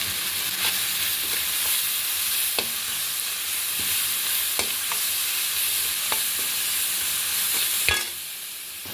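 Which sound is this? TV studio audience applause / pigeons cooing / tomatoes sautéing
tomatoes sautéing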